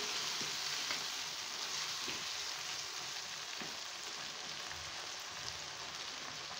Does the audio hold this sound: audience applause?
no